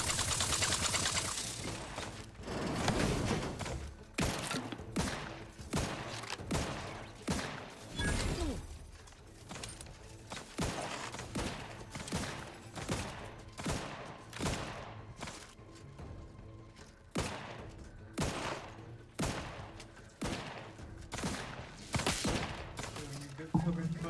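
Sustained covering gunfire in The Outer Worlds 2 game combat, a dense run of sharp shots and bursts crackling steadily for over twenty seconds with voices talking underneath.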